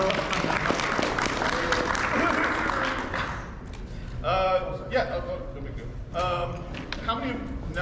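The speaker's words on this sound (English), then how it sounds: "Keep that round of applause going for our guest today in the sketch duel." Audience applause fills a convention panel room for a sketch duel, a dense round of clapping that fades after a few seconds as a presenter speaks over it into a microphone.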